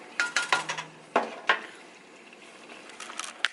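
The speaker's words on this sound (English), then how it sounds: "And I'm just gonna give it a stir. Stir it around." A spoon stirs food in a cooking pot, clinking and scraping against the metal in a quick burst of knocks, then a pause and a few lighter taps, close and fairly quiet, with no voices.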